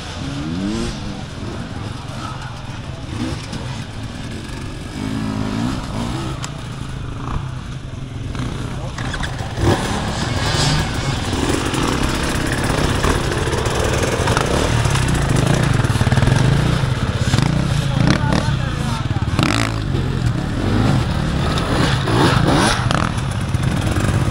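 An enduro motorcycle at an extreme enduro prologue revs and blips hard as it bangs over logs, engine noise surging and dropping repeatedly over about twenty seconds beneath a commentator's voice.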